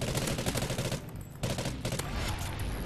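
Rapid video game gunfire in a gun game match, dense bursts of automatic shots and blasts filling the whole stretch, loud and close with a brief lull midway.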